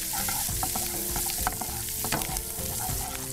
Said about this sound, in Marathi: सो ह्याच्यावरती टाकायचं आपल्याला 1/2 चमचा हिंग। हे चांगलं परतून घ्यायचं